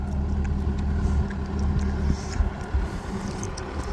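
A Bobcat skid-steer loader idles and runs nearby while moving heavy hay bales, a steady, loud low-pitched engine rumble with slight rises in revs.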